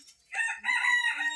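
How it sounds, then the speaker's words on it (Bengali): Rooster crowing on a Bangladeshi farm where ducks, chickens and pigeons are kept, a single close, loud, drawn-out crow following a brief cluck. "হাঁস মুরগি কবুতর গুলো ছেড়ে দিয়েছি, ওরা ক্ষুধা লাগছে, খাওয়া দাওয়ায় ব্যস্ত আছে এখন।"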